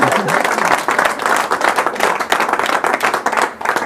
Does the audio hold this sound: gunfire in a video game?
no